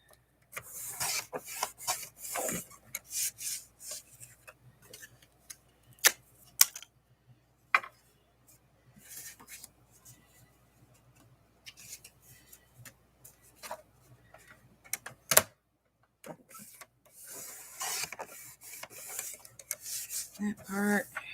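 Scissors snip and rasp through paper while trimming tags for a handmade Peanuts-themed journal, a series of close, intermittent cuts with short pauses between them.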